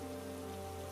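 Steady rain falls outside a village home where travellers wait for shelter, a continuous even hiss with a low constant hum beneath, no voices present.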